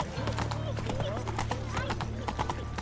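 Hooves of Roach, the horse in the Witcher 3 video game, clip-clop in a quick, even rhythm, close and fairly soft, under a steady game ambience with no talk.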